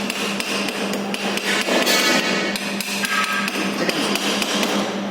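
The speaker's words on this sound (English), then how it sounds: "here we have to remove the slag by chipping action" Hammer chipping slag off a shielded metal arc weld: a rapid series of sharp, close metallic taps and clinks repeating irregularly over several seconds, loud and alone.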